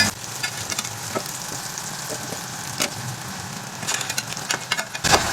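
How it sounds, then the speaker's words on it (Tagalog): Anchovies (dilis) on their second fry in hot cooking oil, a steady bubbling crackle with scattered sharper pops, heard close and alone with a brief stir or clatter toward the end. "I-second fry na po natin mga kakusina itong ating isda."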